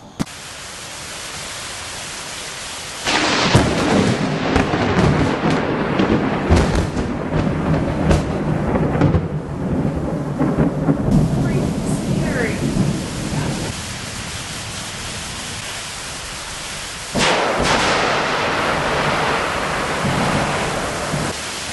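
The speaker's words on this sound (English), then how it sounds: "the lightning and thunderstorm took out our power" Florida thunderstorm in hurricane season, with heavy steady rain hissing throughout and deep rumbling thunder swelling in loud bursts near the start and again toward the end, no voices.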